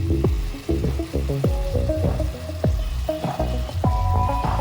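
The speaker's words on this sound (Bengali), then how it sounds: "এবারে আমি ভালো করে মিশিয়ে নিচ্ছি" Korean honey chicken with sesame seeds being stirred in a pan, repeated scraping and clinking of a spatula over a thick bubbling sizzle, close and steady with no voices.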